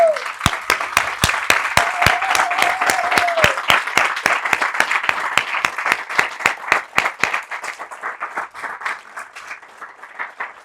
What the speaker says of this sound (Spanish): ¿Qué les parece si les damos un aplauso?